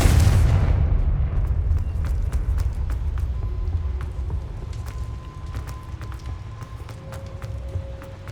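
A Confringo blasting spell detonates in Hogwarts Legacy, one heavy boom right at the start that rolls into a long, fading rumble, with faint scattered ticks and footsteps afterward.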